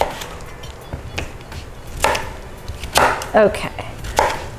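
A knife chops potatoes on a cutting board with a string of uneven, close thuds that grow louder and denser toward the end. A brief spoken word sits among the chops.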